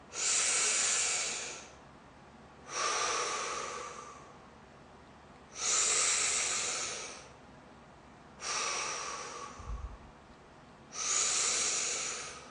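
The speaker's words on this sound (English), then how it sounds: "now I'm just going to breathe big breaths, okay, in my mouth" A person takes deep breaths through the mouth during a seated fascial massage session. Five loud, airy breaths sit close up, each about two seconds long, with quiet pauses between them at a slow, steady pace.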